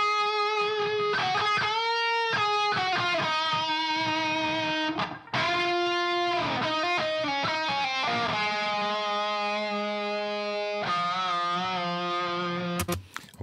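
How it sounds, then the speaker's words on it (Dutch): Distorted solo guitar plays a song's chorus melody as an intro, sustained effected notes and bends running continuously with a brief gap midway. "Alleen dan wordt het door de solo-gitaar gespeeld."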